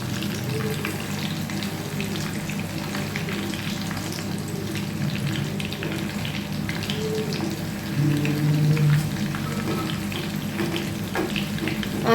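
Chicken pieces fry in hot oil for chilli chicken, a steady dense sizzle and crackle that runs unbroken and fairly loud, with a faint low hum beneath.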